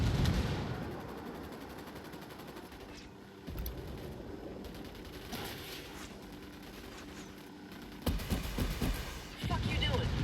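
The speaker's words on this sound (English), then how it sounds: "Opening fire." Gunfire in the shooter game Ghost Recon Wildlands, with bursts of shots and heavy booms amid battle noise, loud and close, with voices talking over parts of it.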